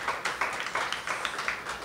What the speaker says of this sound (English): Let's give a good round of applause for Kevin Quick.